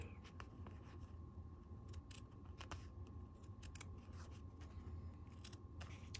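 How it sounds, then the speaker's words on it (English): Small, very sharp scissors snip along the edge of a rug, a series of quiet crisp clicks spaced irregularly over a low steady background hum, close up and with no talking. "I have these really small, very sharp scissors. I'm just carefully cutting along this edge."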